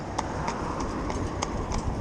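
Horses' hooves clip-clop along at a steady walking rhythm, the hoofbeats faint and moderately distant over a continuous low rumble of outdoor background noise.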